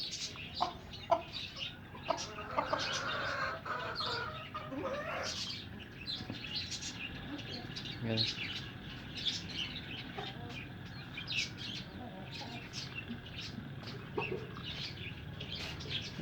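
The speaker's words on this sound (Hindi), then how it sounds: "इनको लादा डाल देते हैं मुर्गियों को।" Caged hens cluck in short, repeated calls that come and go over a steady background hum, close and moderately loud, with bird chirps scattered throughout.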